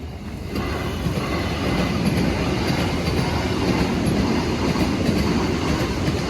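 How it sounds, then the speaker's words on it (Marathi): A train rolls past a railway level crossing on the road near Shrigonda, a steady loud rumble of wheels and carriages that holds evenly throughout with no gaps. "रेल्वेचं फाटक लागलंय. थांबलोय रेल्वे बघायला"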